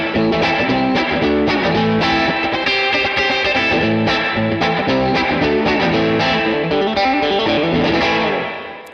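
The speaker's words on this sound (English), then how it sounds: "let's go through this room reverb sound. So I got it pretty wet right now." Electric guitar playing chords and riffs through a Boss RV-200 reverb pedal on a room setting, wet and roomy, loud and close, ringing out briefly at the end.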